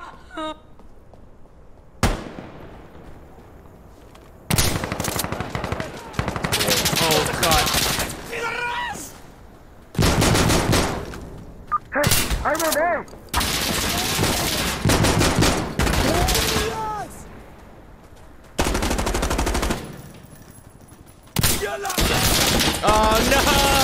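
Gunfire in Insurgency: Sandstorm: loud shotgun blasts and rapid bursts of shots in several intense stretches separated by short pauses, with a player talking over the firing.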